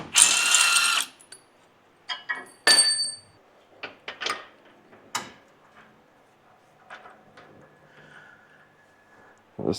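A bolt on a Toyota Hilux front differential is undone with a ratchet, giving bursts of quick clicking and metallic clinks separated by short pauses, close and fairly quiet, with no talking.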